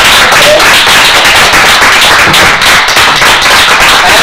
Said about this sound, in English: I think I would like all of us just to stand in applause for Dino Harris